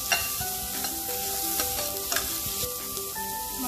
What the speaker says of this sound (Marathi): आणि गाजर, यांचा अगदी थोडा कलर चेंज होईपर्यंत परतायचं आहे।